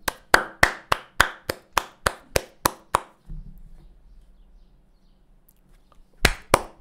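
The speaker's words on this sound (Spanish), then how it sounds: "Dos aplausos, vale." Sharp hand claps in a steady fast series of about fourteen, then a pause with a low rumble, then a few more claps at the end.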